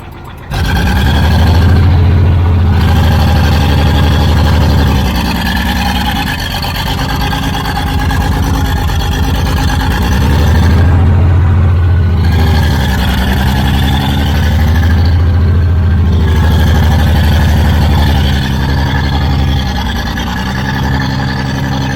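An old CAT D6 dozer engine runs steadily at close range, a loud, rough low rumble with a throbbing idle that swells slightly now and then over about twenty seconds, without speech.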